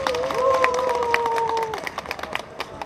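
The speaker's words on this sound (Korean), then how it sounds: "넘버걸 타악 퍼포먼스 난타 공연팀에게 힘찬 박수 부탁드리겠습니다" A crowd applauds the Numbergirl nanta percussion performance team at a rally of North Jeolla city and county council chairs, with dense clapping, cheering and a long whistle-like tone early on, then the applause thins out.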